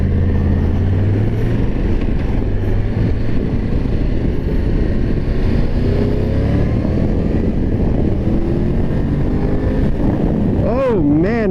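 A 2023 Triumph Tiger 1200 GT motorcycle accelerating on the road, its loud, close engine drone mixed with heavy wind rush, rising in pitch through a quick rev near the end.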